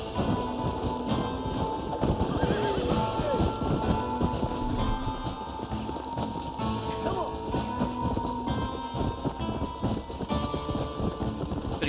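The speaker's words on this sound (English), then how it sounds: "Let's get the horse back to the guy" Horse hooves clip-clop steadily in the video game Red Dead Redemption, close and rhythmic over a busy game soundscape, with a brief neigh and a voice talking faintly in the background.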